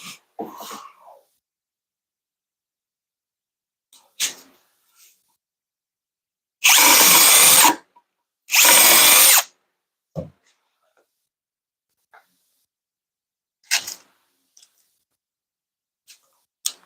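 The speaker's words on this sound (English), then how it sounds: "That's a drill, not a driver." A power drill drives small thin screws into wood during a recliner arm rest repair, with two loud, steady whirring bursts of about a second each, surrounded by quiet clicks and handling noises.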